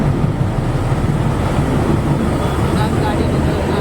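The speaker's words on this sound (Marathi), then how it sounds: "आता गाडी आली आहे आमची ही देवगिरी एक्सप्रेस." Devagiri Express train pulls into a station with a loud continuous low rumble and rolling roar close by, steady throughout.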